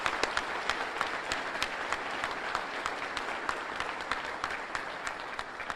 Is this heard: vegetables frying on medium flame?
no